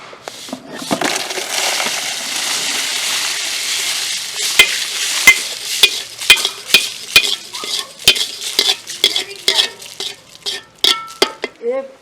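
Coriander seeds and dried chillies dry-roast in a pan in a Sri Lankan village kitchen, a soft continuous rustle of stirring broken later by a run of sharp, close scrapes and taps of the spoon against the pan.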